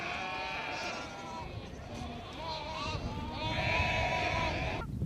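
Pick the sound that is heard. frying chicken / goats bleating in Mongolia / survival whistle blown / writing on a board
goats bleating in Mongolia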